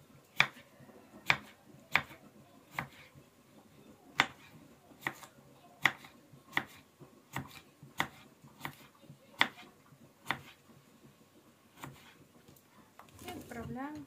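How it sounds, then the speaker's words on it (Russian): A knife cuts cucumber into quarter rings on a board for a spring salad, crisp evenly spaced chops about one per second, close and clear, with a short rustle at the end. "Огурчик нарезаем"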